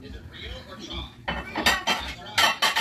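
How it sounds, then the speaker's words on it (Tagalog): Plates are handled during an unboxing, clinking and knocking against each other in several sharp, close hits after a quieter start with faint rustling. "Dalawang malapad na plato."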